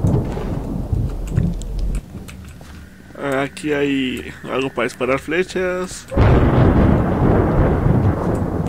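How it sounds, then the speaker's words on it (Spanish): Thunder rolls in a Minecraft horror map, with a loud rumbling burst at the start and a heavier crash near the end, and someone talking in Spanish between the two. "Pinches truenos."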